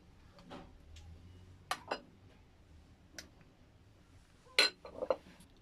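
Spoon clinking against a bowl while three large spoonfuls of a spicy sauce mixture are scooped out, giving a few light, sharp metallic taps spaced irregularly over quiet background.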